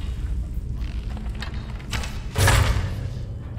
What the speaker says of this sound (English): Oh, look. A trap.